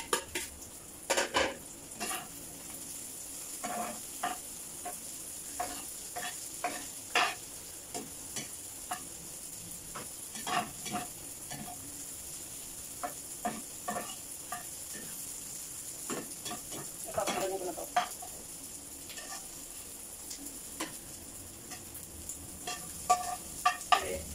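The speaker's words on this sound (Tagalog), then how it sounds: "Medyo naluluto na yung hotdog natin." Hotdogs fry in a pan while kimchi fried rice is made, a soft continuous sizzle under frequent light clicks and taps of utensils against the pan, fairly quiet and close, with no talking.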